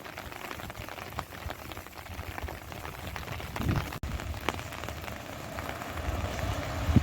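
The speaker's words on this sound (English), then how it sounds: "Cold, steady rain." Steady cold rain falling in metro Phoenix, Arizona during a winter storm, a constant broadband hiss with scattered close drips and taps over a low rumble.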